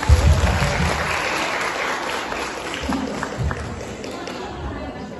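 A crowd at a district teachers' association conference claps together in steady applause that gradually thins out, mixed with some indistinct voices.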